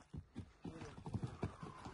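An ulak racing horse is ridden briefly, its hooves clip-clopping in an uneven, fairly close rhythm of soft thuds at low volume, with no clear speech over them.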